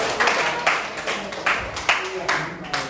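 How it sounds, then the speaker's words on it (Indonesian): Students in a ninth-grade classroom at SMP 10 PAB Medan Estate clap for a classmate after a microteaching lesson, a handful of loose, uneven claps spaced apart with voices talking over them. "kasih tepuk tangan dulu buat orang ini"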